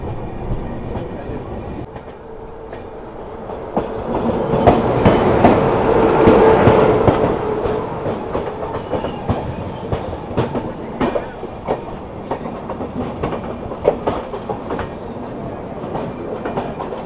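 A passenger train runs steadily on rails near Hazrat Nizamuddin in India, with rumbling wheels and clacking joints that swell to a louder pass in the middle, then settle into a steady rattle with sharp clicks. A faint voice is heard.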